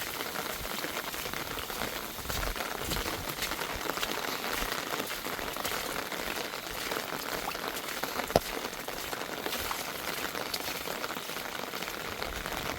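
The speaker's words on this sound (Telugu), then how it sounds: "నీళ్ళు చూడండి ఎంత పారుతున్నాయి." Floodwater rushes through village streets after a storm, a continuous dense wash of moving water, steady and fairly loud throughout with no voices.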